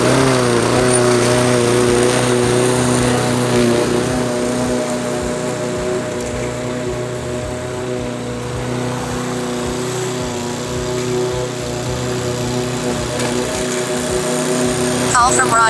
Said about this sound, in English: We got sidetracked and ended up cutting the grass.